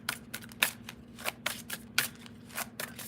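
Tarot cards being shuffled and drawn for a reading, giving a series of short papery riffles and snaps at an irregular pace over a steady low hum, with no talking.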